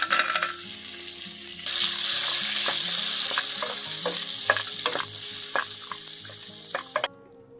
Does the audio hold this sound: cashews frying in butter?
yes